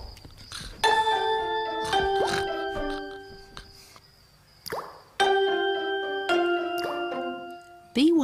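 Cartoon water drops plink and splash from a dripping bathroom tap, a series of ringing, pitched plops in clusters with quiet gaps, ending in a sliding boing-like tone.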